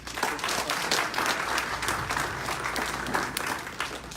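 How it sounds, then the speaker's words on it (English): Steady applause from a graduation audience at a software developer program ceremony, dense sustained clapping filling the whole stretch at an even level with no talk over it. "let's give these guys another round of applause"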